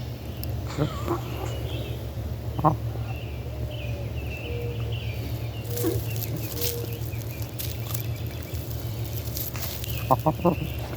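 A 21-month-old Cornish meat bird hen clucks in short soft bursts at moderate distance over steady outdoor background noise, with a few sharper calls near the end.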